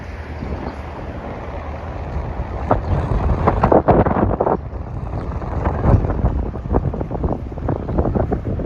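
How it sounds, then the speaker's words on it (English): Strong wind buffeting a microphone outdoors on a city street in Etobicoke, Toronto, a loud continuous low rumble with gusty swells throughout and no talking. "Sorry about all the wind, it just kicked up."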